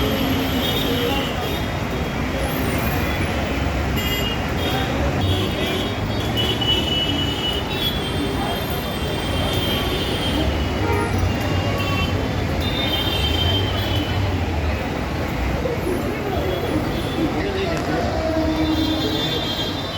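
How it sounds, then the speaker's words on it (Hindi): Busy platform ambience at Borivali railway station in Mumbai, with a train rumbling through and wheels squealing, loud and continuous for the whole stretch, with voices mixed into the din. "ये है बोरीवली रेलवे स्टेशन।"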